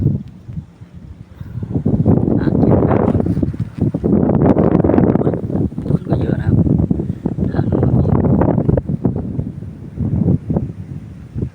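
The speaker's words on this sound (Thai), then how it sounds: "ลมแรงครับ" Strong wind buffets the microphone beside a reservoir while fishing from the bank, a loud continuous roaring rush that surges and eases across the whole stretch, with no clear voices over it.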